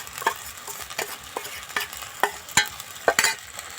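Cumin-chilli paste with tomato and fish spices fries in a pan for a fish jhal, a close, busy sizzle punctuated by repeated sharp scrapes and clacks of a spatula stirring.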